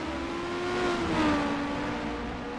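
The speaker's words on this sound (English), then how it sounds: "Kurachenko using Striker Motorsports engineering to breeze by Neri going into braking for turn 7" A race car at the Detroit Grand Prix passes close by, its engine note droning loud and then dropping in pitch as it brakes into a turn, with a second car audible behind it.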